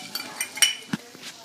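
A stirring utensil is pulled out in a kitchen where sugar is being dissolved in boiling water, giving a few light metallic clinks and taps, close and fairly quiet, scattered over about a second and a half.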